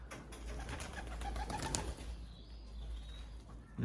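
Racing pigeons outdoors give soft, low coos and occasional wing flaps over a steady low hum, fairly faint and continuous with no voices.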